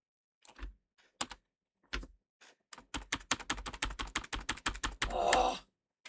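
Rapid keystrokes on a computer keyboard, starting with a few scattered taps and building into a fast, steady run of close, crisp clicks with a brief denser burst near the end, no talking.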